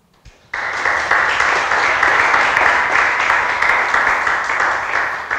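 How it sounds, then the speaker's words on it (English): After a brief quiet moment, an audience at a Django conference talk bursts into loud, dense applause that stays full and even for several seconds. "let's give a round of applause for Jonah"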